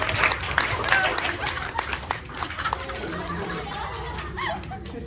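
A classroom group claps in a brief burst of applause, mixed with lively chatter and voices that carry on as the clapping fades.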